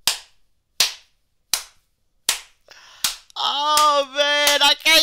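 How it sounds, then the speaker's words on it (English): Five sharp, evenly spaced hand claps ring out close and loud, each cracking cleanly into silence, before a burst of louder, tonal sound takes over at the end. "Oh, man, I can't stop clapping."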